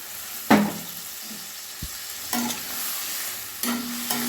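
Ground spices frying with cauliflower and potato in a pan, with a few sharp sizzling bursts as ingredients hit the hot oil, each fading into a steady low crackle with occasional stirring scrapes.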